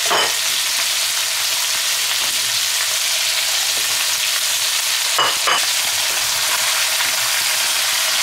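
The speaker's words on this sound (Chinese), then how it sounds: "再次给它翻炒均匀" Prawns and side vegetables stir-fry in a wok with melted hotpot base and red chili oil for a spicy mala dry pot, giving a steady, close sizzle throughout with a couple of brief scraping stirs midway.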